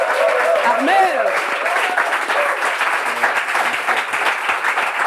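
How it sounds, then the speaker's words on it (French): An audience at a Bible quiz gives the winner a warm, sustained round of applause, with a voice talking over the start and clapping continuing steadily throughout. "le grand gagnant, on peut l'applaudir très fort."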